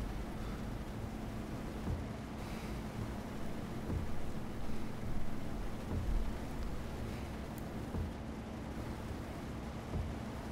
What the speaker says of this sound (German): Boah, das regnet ganz schön, oder?